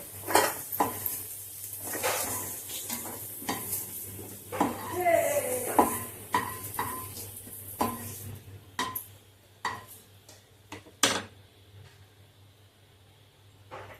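Utensils scrape and clink against a pan, with soft stirring and clattering, as fried parandai pickle is moved onto a plate; brief knocks of metal on metal.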